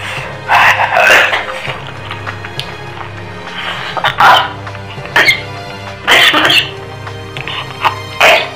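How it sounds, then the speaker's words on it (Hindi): Someone coughs close by in several harsh, separate bursts, with short quiet gaps between them, during a spicy ghost pepper egg eating challenge. "पता नहीं खांसी क्यों आ रहा है आज।"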